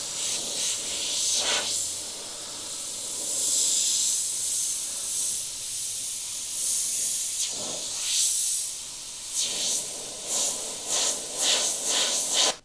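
An Iwata HP-BS Eclipse gravity-feed airbrush sprays paint from a small color cup in repeated close, steady hissing bursts, some long and some short, with brief pauses between them and no voices.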